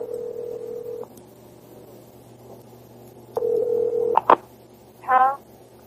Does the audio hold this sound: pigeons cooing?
no